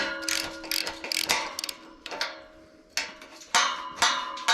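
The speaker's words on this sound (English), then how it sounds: "We'll loosen this bracket." A gate bracket is loosened during a quick Lowe's gate install, with a wrench ratcheting in clicking bursts, close and fairly loud, pausing briefly between runs.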